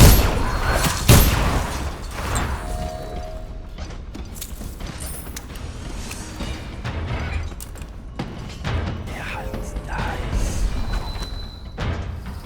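Guards firing guns in the stealth game Dishonored, with scattered booms and thuds over mechanical clanks and creaks, under a steady busy game soundscape, with a brief loud burst near the start.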